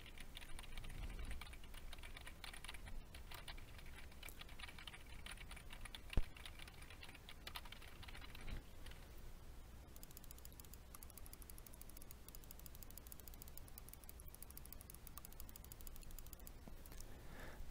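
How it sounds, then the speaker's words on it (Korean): Keys clatter in a long stretch of quiet typing on a computer keyboard, mixed with scattered sharp mouse clicks, close but faint and without voices, picked up by a Sennheiser PC 8 headset microphone. "주변 소리는 어느 정도로 차단하는지 키보드와 마우스 버튼을 눌러보겠습니다"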